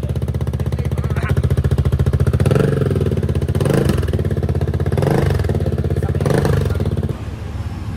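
A Kymco Xciting VS 400 scooter engine with an Akrapovic carbon exhaust and silencer idles steadily with a muffled, even exhaust burble, swelling slightly in a few brief blips of throttle.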